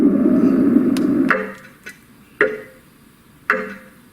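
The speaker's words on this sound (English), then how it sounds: "It sounds like a little bit of metal hammering." A Roffie white noise machine plays its metal hammering setting: a steady hiss fades out, then three sharp, ringing taps follow about a second apart, each decaying briefly.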